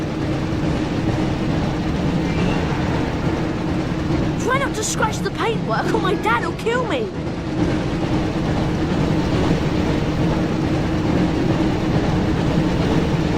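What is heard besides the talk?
Hogwarts Express train in Harry Potter video game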